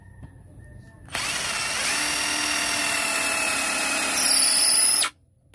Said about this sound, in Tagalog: Titingnan natin sa kahoy itong pangburas ng drill nila kung okay.